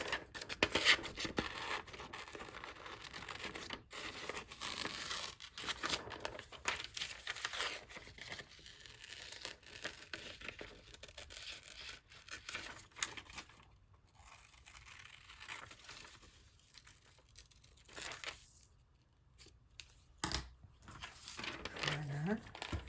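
Scissors cutting out a paper cushion image for an abstract collage, close crisp snips and paper crinkling scattered through, with someone talking over much of it.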